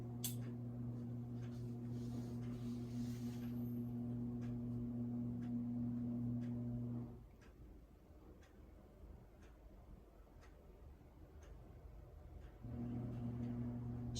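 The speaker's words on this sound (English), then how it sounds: "Excuse the noise, my neighbor appears to be coming back, and that's his overhead door opener for his garage." A neighbor's overhead garage door opener hums steadily at low volume for about seven seconds, stops, then starts again near the end, with faint periodic ticking throughout.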